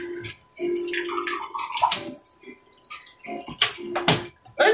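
A toy pharaoh figure is soaked and swished in a container of water, giving close, quiet sloshing and splashing in uneven bursts.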